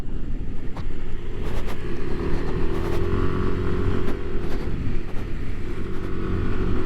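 Yamaha NMAX Turbo scooter riding on a road with the turbo mode engaged, a steady engine drone with a faint rising rev mixed with constant wind buffeting the microphone, no talking.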